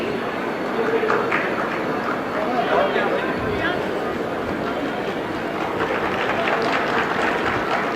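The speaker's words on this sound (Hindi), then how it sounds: "तालियों से स्वागत" An audience claps steadily throughout to welcome the chief minister at an ambulance-service launch ceremony in Madhya Pradesh, with a voice talking over the applause.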